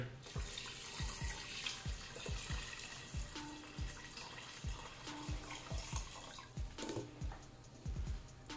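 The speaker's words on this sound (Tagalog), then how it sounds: "Maglalagay tayo ng panibagong tubig o water." Fresh water pours from a tap into a pot of tenderized beef, a steady running splash with irregular drips and clinks, close and fairly quiet, no talking.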